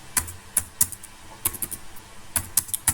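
Scattered keystrokes on a computer keyboard tap out text in short irregular bursts, close and crisp, with no voices over them.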